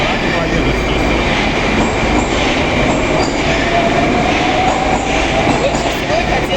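Moscow metro trains pass during an anniversary train parade with a loud, continuous rumble and roar of rolling wheels, faint squeals and clatter, close by, while people talk underneath.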